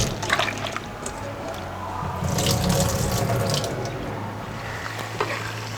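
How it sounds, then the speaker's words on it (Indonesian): Water from a kitchen tap runs steadily into a sink while potatoes are rinsed, with light splashing and sloshing throughout and faint voices underneath. "Ini kita bilas sedikit, tujuannya untuk ngilangin getahnya."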